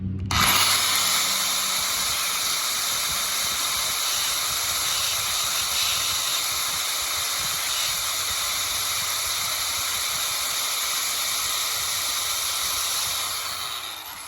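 A Milwaukee angle grinder powered by a ToGo portable power station spins up with a brief low thump, then holds a steady, loud whining hiss with bright tonal bands for about thirteen seconds before starting to wind down at the end.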